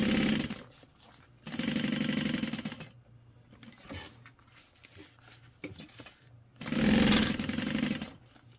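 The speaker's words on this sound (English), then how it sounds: "And you are stitching this one all the way closed." Sewing machine stitching a foam-lined bag closed, heard in three loud bursts of steady running stitches separated by quieter pauses with small handling noises.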